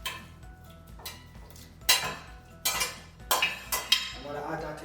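A slotted spoon scrapes and clinks against a metal soup pot as roasted vegetables are lowered in, several sharp knocks and clatters in a row, close up, with quiet kitchen ambience between them.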